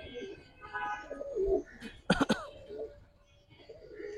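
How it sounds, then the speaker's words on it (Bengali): Cobra silver pigeons, a male and female pair at a farm loft, coo in low warbling bursts, interrupted midway by a sharp throat-clearing cough close by. "তোতা শেপের কবুতর এগুলি"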